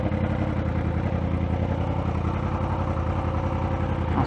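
Idling Yamaha R1 motorcycle engine up close, a constant throaty rumble with a rapid, slightly uneven pulse and no revving, running alone without voices.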